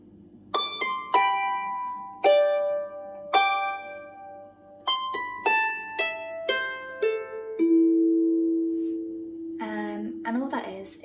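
A Manx harp plays a plucked melodic phrase, about a dozen separate notes ringing with overtones and decaying, ending on a longer sustained low tone; close and clear, with faint handling noise at the end and no talking.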